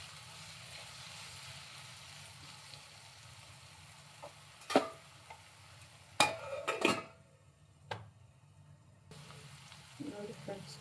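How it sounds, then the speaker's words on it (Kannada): Raw mango chitranna masala fries gently in oil with a faint, steady sizzle. A few louder clinks and scrapes of a spoon against the pan break in, and a voice talks over part of it. "ಮಧ್ಯದಲ್ಲಿ ಸ್ವಲ್ಪ ಹಾಗೆ ತೆಗೆದು ಸ್ವಲ್ಪ ಒಂದ್ಸಲ ಫ್ರೈ ಮಾಡ್ಕೊತಾ ಇರಿ"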